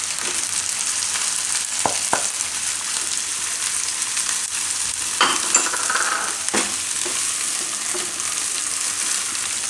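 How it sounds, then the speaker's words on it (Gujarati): Chopped green garlic tossed into a hot pan and stir-fried for a Gujarati mustard-greens shaak, a steady close sizzle running throughout with occasional scraping stirs of a spatula, no voices. "હવે એમાં નાખી દેવું લીલું લસણ"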